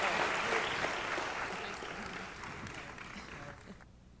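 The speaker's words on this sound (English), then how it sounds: "If we can give another round of applause for these amazing, energetic young people in our racing industry." Audience at a Jockey Club racing-industry event applauding young people, a soft, fairly distant round of clapping that fades out over a few seconds.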